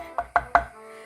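A big kitchen knife chops food on a cutting board while preparing a Spanish menu: three sharp, close chops in a quick, steady rhythm, with no talk over them.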